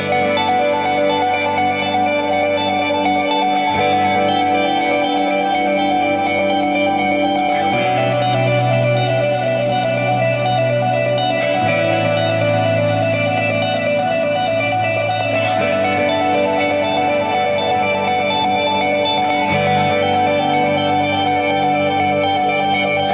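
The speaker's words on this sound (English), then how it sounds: "we're going to be checking out the Horizon Devices Flux Echo pedal" A Horizon Devices Flux Echo pedal produces an ambient echo effect on a sustained, layered instrument, with dense shimmering repeats and a steady wash of tones that shifts in sections, played loud with no talking.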